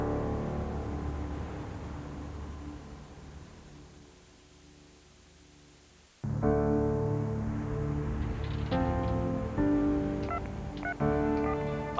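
A landline phone call in Brighton: a steady dial hum fades, then a run of distinct keypad tones beeps in an irregular sequence over line noise, fairly loud and with no talk.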